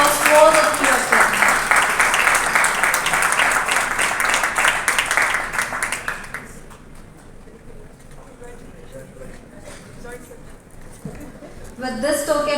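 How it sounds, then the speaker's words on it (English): A conference audience at an ECMO medical meeting in Chennai claps loudly and densely for about six seconds, then the clapping dies away into a quieter hall with people talking, and a brief swell of sound returns at the end. "Please give a big round of applause to all the three of them."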